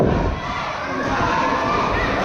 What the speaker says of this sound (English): This crowd, they're letting Sidney Steele know exactly what they think of him.